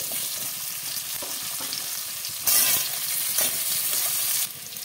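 Vegetables and carrots frying in mustard oil in a kadai, a close, constant sizzle with occasional stirring scrapes and a brief louder flare of hissing partway through.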